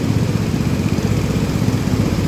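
Steady, loud rumble of a long-tail boat engine running continuously at close range, with no talking over it.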